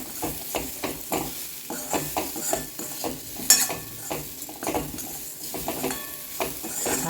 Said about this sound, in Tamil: நல்லா கலந்து விட்டுடலாம்